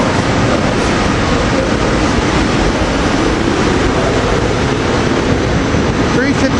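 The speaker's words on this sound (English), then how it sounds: "Train 431 is departing. Silverliner 4 rail cars 284." A SEPTA Silverliner IV commuter train, number 431 with rail car 284, departs with a loud, steady rumble of wheels and rolling stock close by, filling the whole stretch without a break.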